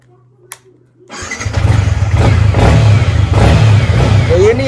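A Yamaha MT-15 motorcycle starts after a brief quiet moment, cranking and catching, then revs loudly and settles into a close, throbbing idle.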